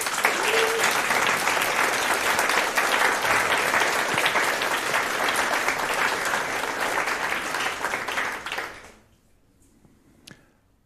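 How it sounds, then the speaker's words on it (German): An audience at a youth hackathon's closing presentation in Hamburg breaks into loud, sustained applause, a dense wash of clapping that fills the room for about nine seconds before fading out quickly to near quiet. "dieser Applaus ist für euch"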